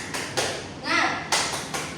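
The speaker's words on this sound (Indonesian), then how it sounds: "Ayo berdiri tepuk semangat dulu" A class of children does the rhythmic 'tepuk semangat' cheer clap in a classroom, giving several short, sharp clap bursts in a pattern, mixed with young voices calling out between them.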